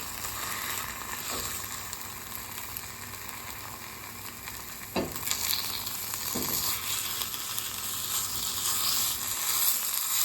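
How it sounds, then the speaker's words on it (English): Homemade mozzarella sizzling and melting in a dry pan, giving a steady, fairly quiet hiss broken by a couple of soft taps, with no talking. "I just want to try it out in a dry pan because I want to see how much it actually will melt"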